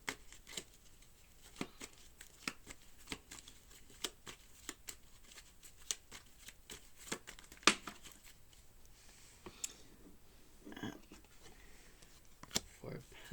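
Tarot cards being shuffled by hand, a quiet run of soft riffles and crisp slaps at an irregular pace, close by.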